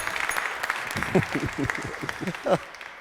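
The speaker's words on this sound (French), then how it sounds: "Nous avons bien sûr applaudi Gratien, ça fait partie du contrat" An audience at an improv comedy show claps steadily in moderate applause, while someone talks over it.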